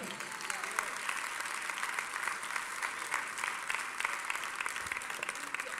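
A church congregation clapping for the Lord during an evening service, a steady, continuous wash of many hands clapping, fairly distant and even in level throughout.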